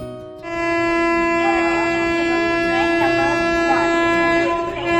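A train rumbles in at a station, its steady hum and horn-like tone loud and continuous, with brief voices mixed underneath.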